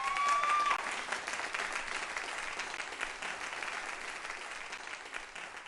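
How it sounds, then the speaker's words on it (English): Audience applause at a community event on money bail, a steady wash of clapping from a crowd that holds at even strength for several seconds, with no talk over it. "let's give them a round of applause"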